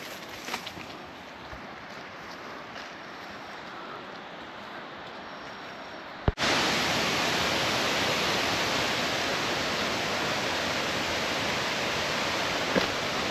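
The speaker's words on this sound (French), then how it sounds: "Ok, on arrive à la cascade." A waterfall in Thailand roars as a steady broadband rush, jumping abruptly louder about halfway through and holding that fuller, closer wash to the end.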